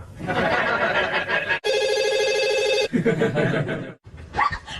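An office telephone rings in a steady electronic trill for about a second, cut between bursts of lively talk from several people nearby in a comedy scene.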